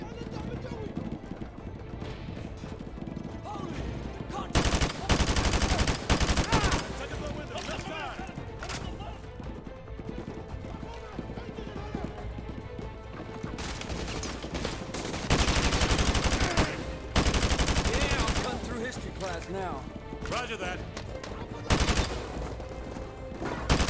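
Bursts of automatic gunfire from Call of Duty: Modern Warfare 2 Remastered come in loud clustered volleys separated by quieter stretches, with game dialogue and voices running throughout.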